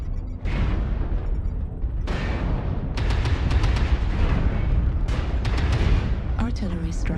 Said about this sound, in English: Artillery strike active.